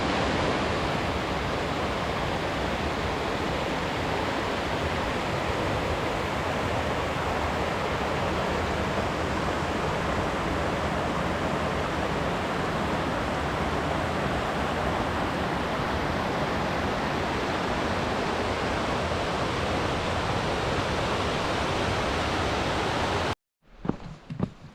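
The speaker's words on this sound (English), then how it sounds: "I hear some water down there" Rushing stream water beside a hiking trail on Crystal Peak, a steady, loud, broadband roar that continues unbroken before cutting off abruptly near the end.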